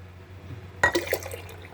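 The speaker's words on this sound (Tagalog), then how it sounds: "Tapos, maglalagay ako ng water." Water poured into a glass or container while making a malunggay (moringa) drink, a sudden splash then brief trickling and dripping, close and fairly quiet over a low background hum.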